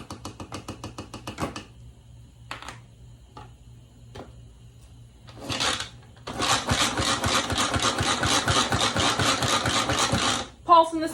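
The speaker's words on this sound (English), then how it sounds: "Pulsing this a few times just to mix everything, make sure it's all combined." Blender pulsing egg roll in a bowl sauce ingredients in short bursts, first a few brief pulses then a sustained loud whirring run of several seconds, close up in a home kitchen.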